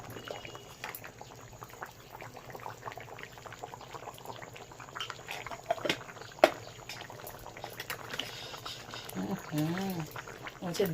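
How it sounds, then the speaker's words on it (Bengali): Desi chicken curry with new potatoes bubbling steadily in a pot, a close, continuous wet simmer with soft popping that grows busier toward the end, with a voice talking over it. "দেখো টকবক করে ফুটছে"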